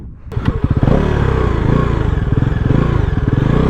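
A Bajaj NS 400 motorcycle engine starts with a sharp crank, then settles into a loud, close, pulsing idle with a fast regular thump and slight mechanical clatter.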